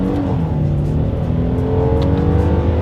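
A 2021 Hyundai Palisade SUV accelerates hard under paddle-shifted gear changes, its engine droning loudly and continuously with rising revs close to the cabin.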